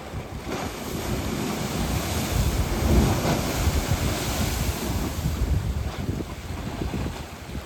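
Sea water surges at the mouth of the flooded Ratneshwar Mahadev coastal cave, a steady rushing wash with swelling wave surges and wind buffeting the microphone, nearby and continuous.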